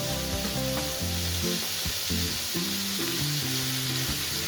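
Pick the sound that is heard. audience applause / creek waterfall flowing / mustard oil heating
mustard oil heating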